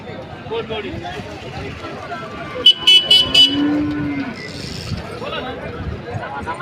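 Bulls at a busy cattle market, with one deep low moo rising above loud crowd chatter and general hubbub, and a brief sharp clatter close by.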